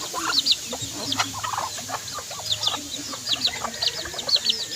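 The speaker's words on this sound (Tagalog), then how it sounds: "Native bantam si Rama" Native bantam chickens cluck and chirp steadily nearby in a busy farmyard, with overlapping short calls and faint background chatter.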